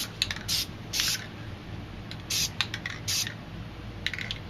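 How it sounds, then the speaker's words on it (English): A spray paint can hisses out white paint in several short bursts of varying length, close by, with brief pauses and faint clicks between sprays. "grab your can of white, and I'm going to do some white straight across the edge of this straight edge"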